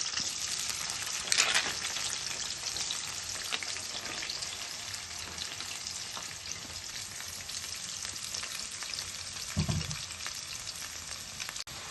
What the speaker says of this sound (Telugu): ఆయిల్ వేడయింది మనం కట్ చేసి పెట్టుకున్న పచ్చిమిర్చి ఉల్లిపాయలు వేసుకుందాం